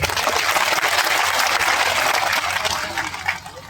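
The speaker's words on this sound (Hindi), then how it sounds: "इसलिए इन सभी के लिए सबसे पहले तालियां होनी चाहिए।" Audience at a rally applauding, a loud dense wash of clapping that stays steady and then thins slightly toward the end, with no talking.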